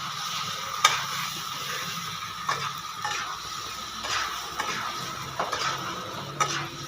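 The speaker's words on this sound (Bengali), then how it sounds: "দিয়ে পর নাড়াচাড়া করবো, কষাবো একটু ভালো করে।" Katla fish with salt and turmeric stirred and frying in a pan: a low steady sizzle with scattered spatula scrapes and clinks against the pan, close and fairly quiet.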